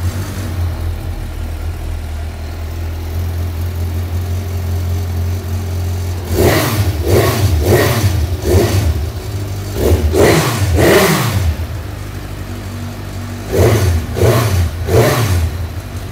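A Kawasaki Z900 superbike with dual exhaust idles, then gets blipped in a series of sharp, loud throttle revs in two clusters, each rising and falling quickly over the idle.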